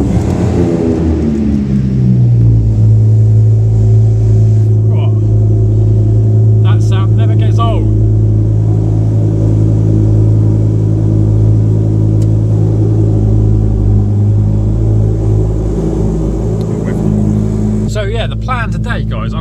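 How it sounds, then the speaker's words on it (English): A Ford Focus ST 225 mk2 running a KMS setup idles after a cold start, a loud, steady, deep rumble that holds throughout, with brief voices and small clicks over it. "There she is. Cold start on the KMS."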